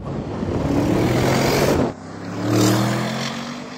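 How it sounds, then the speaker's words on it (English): An Audi RS6 in sports mode accelerates hard up close, its engine note building loud and steady, dipping abruptly at a shift, then swelling again before easing off. "When you're driving along and you've got the car in sports mode and you accelerate, this thing sounds incredible."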